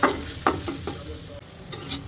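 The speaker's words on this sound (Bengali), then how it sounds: "এবার ভালোভাবে নাড়ি।" Egg, potato and papaya curry stirred in a hot pan with turmeric, chili powder and garam masala, a spoon scraping in a few distinct strokes over a steady close sizzle.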